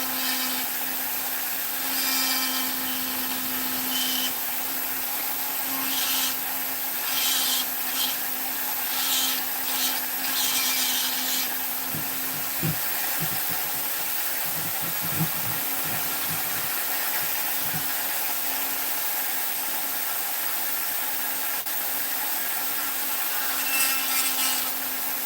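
A Vevor flex shaft rotary tool with diamond burrs carves a Knights Templar figure in wood, giving a steady high motor whine with intermittent gritty grinding bursts, close and continuous throughout with no talking.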